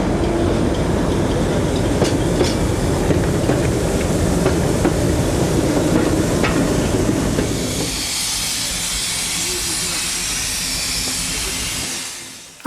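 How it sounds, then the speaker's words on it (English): A heavy diesel locomotive, Castle Carnarvon, hauls heritage narrow-gauge stock on a Welsh shuttle service, a loud steady rumble that gives way to a fainter hiss before fading out. "the massive diesel Castle Carnarvon dwarfing the heritage stock, topping and tailing a shuttle service to Wynebower with Prince"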